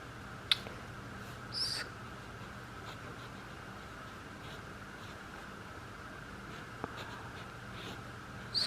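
Pen writing math on paper in a quiet room, close and soft: a continuous faint scratching of the tip across the page, broken by a few small taps and brushes, with no talking.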